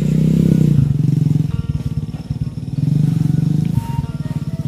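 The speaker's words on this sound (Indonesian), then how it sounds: "ternyata motor juga masuk sahabat, ada akses jalan ke bagian area perhutanan di sana" A motorcycle rides along an access road into the forested hills of rural Sumedang, West Java, its engine close and loud with a pulsing, chugging throb that swells and eases throughout.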